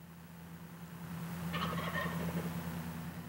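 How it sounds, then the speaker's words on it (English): Wild turkey gobblers gobble in a short, rattling burst outdoors at moderate distance over a low steady background hum, with no talk. "Greg has called in two gobblers"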